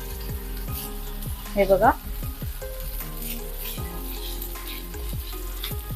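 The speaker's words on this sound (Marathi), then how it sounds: "ती सुद्धा कांद्यासोबत मिनिटभरासाठी मिक्स करून परतून घ्यायची आहे" Ginger-garlic paste frying with onions in a pan, a steady sizzle broken by repeated scraping stirs and a brief louder clatter, with a short spoken remark over it.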